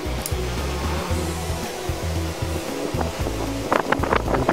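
An HFN 1253 C electric fan runs at its medium speed setting, giving a steady close whooshing airflow with a low hum that stays level throughout, and a few faint clicks come near the end.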